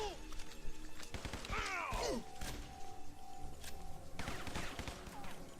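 Tommy gun fire in the side-scrolling shooter Guns, Gore and Cannoli 2, rapid bursts mixed with crashes, thuds and game sound effects, loud and busy throughout.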